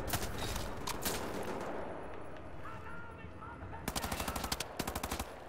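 Rapid automatic gunfire in a Wolfenstein: The New Order firefight, dense bursts early on, then sharper clustered rounds near the end, with someone talking over the shooting.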